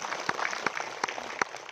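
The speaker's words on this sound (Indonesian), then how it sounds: "Sekali lagi tepuk tangan." Audience applause at an Indonesian film screening event, steady clapping from a crowd with a few sharper individual claps standing out, moderately loud and continuous.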